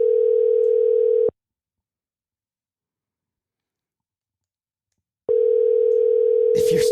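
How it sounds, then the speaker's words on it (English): Ringback tone on an outgoing phone call, two loud steady rings with a long silent gap between, and a short click and rustle as the second ring plays. "You're just listening to the phone ring."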